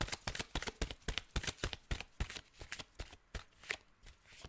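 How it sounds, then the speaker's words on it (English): Tarot cards are shuffled by hand in quick, crisp riffling bursts and taps, a close, quiet series of sharp papery flicks with brief gaps between them and no talking. "I do not have the muscles to shuffle today"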